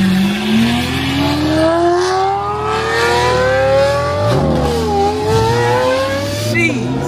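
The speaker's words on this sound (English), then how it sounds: "nothing like that SVJ sound" A Lamborghini Aventador SVJ V12 revs loudly up through the gears, its pitch climbing steadily before dropping and rising again, close and continuous, with faint voices underneath.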